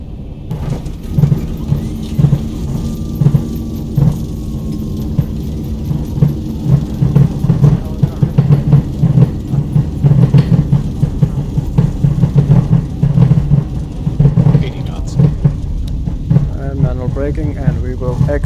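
A Boeing 737-800 in X-Plane 11 rolls out after touchdown with braking, a loud, steady low engine and rumble drone with rhythmic thumps across the runway, under spoken cockpit callouts.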